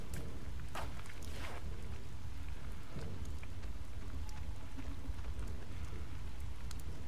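Steady, dense rain pours down through a stormy night in the video game Oxenfree, a constant wash of drops with a few louder splashes near the start and no voices.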